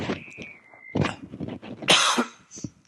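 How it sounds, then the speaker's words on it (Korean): A man coughs during a spoken lecture: a few harsh, close coughs in quick bursts with throat-clearing rasps between them. "자꾸 기침이 나와서 죄송합니다."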